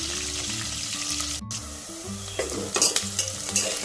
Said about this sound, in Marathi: कांदा चांगला ब्राऊन रंग येईपर्यंत परतून घ्यायचा.